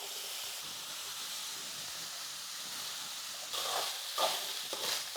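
Cooked rice is stirred and fried in oil in a pan over low heat, giving a steady, soft sizzling hiss. Louder scraping and stirring bursts come near the end.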